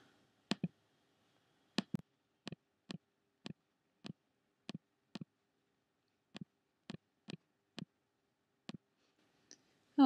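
A computer mouse clicks while working in Mindomo mind-mapping software, a dozen crisp, close, isolated clicks at irregular intervals against near silence.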